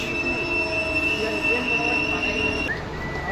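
Bhubaneswar–Howrah Jan Shatabdi Express train with steady, high metallic wheel squeal running throughout over a constant rumble of rolling carriages, fairly loud and close, with no one speaking.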